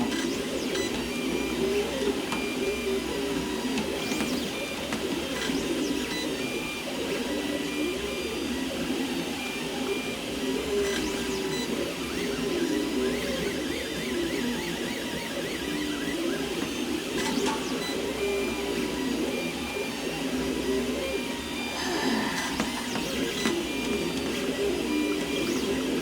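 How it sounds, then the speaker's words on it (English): Several Anycubic Photon Mono X resin 3D printers run in a nearby room, giving a steady, continuous mechanical whirring hum that stays at an even level throughout, with faint bird cooing in the background. "the noise of those printers in there"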